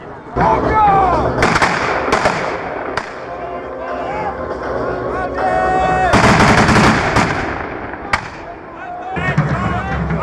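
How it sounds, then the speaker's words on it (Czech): Cannon artillery fires at a historical battle reenactment of Turks in Moravia at Veverská Bítýška, with booming blasts and crackling gunfire under a voice speaking throughout. "dává dělostřelcům povel k pokračování palby"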